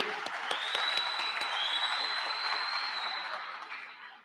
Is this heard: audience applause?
yes